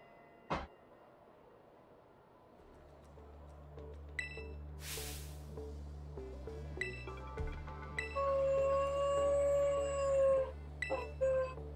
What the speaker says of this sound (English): Got a dog howling in the background.